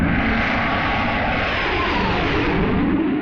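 A steady, loud helicopter drone rumbles continuously overhead, a dense engine roar with no breaks.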